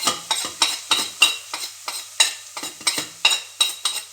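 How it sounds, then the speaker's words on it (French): Spices for coral lentils cooking in a pan (coriander, garam masala, turmeric and a little chilli), stirred in a quick steady rhythm of about a dozen scraping strokes over a light sizzle, close and clear. "Et là, je mets les épices."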